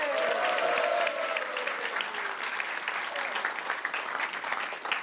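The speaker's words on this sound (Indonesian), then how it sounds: "Kita beri tepuk tangan untuk Arya Novrianus." A studio audience at a televised stand-up comedy show applauds in a dense, sustained wave of clapping, loud and continuous, while a voice briefly carries over the start.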